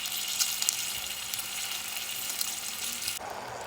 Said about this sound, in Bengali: এই যে তেলটা জাল হচ্ছে